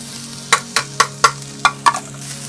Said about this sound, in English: We got a nice hot pan, a real nice hot pan, real nice. We're gonna add our peppers and onions right away.